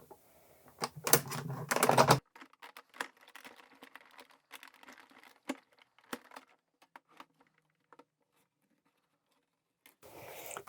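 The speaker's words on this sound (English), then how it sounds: "it's an intricate die, as you can see, all those little holes, so I will go back and forth quite a few times." A die-cutting machine runs an intricate, many-holed stamp die through in short bursts of rattling, clicking mechanical noise, loudest at the start and again near the end, with quiet gaps between.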